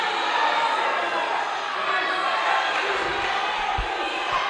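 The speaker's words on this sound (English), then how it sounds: "I think the reaction of the crowd says otherwise" A live show crowd cheering and reacting: a dense, steady roar of voices holds loud throughout, with a few low thumps near the end.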